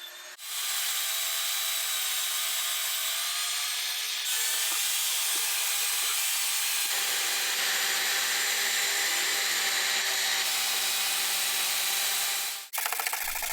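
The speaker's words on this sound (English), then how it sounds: "I used this nylon brush that I just put in my drill, and that made it much easier to remove most of the paint" A nylon brush spun by a drill scrubs old paint off wooden furniture, a loud steady abrasive whir that runs unbroken for over twelve seconds, shifting pitch slightly as pressure changes, then stops abruptly.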